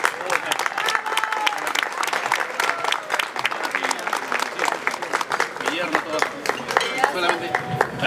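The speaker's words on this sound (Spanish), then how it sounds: "Así que un aplauso, por favor." An audience claps enthusiastically at a silver wedding anniversary party, a close, dense patter of many hands lasting several seconds, with voices and cheers mixed in.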